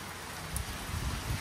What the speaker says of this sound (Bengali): এই দেখুন বাইরে কিরকম বৃষ্টি হচ্ছে